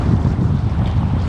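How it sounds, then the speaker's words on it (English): Strong wind gusts buffeting the microphone on a packrafting trip over open water, a loud steady roar with rushing low rumble and no let-up, no voices. "definitely need to respect the wind."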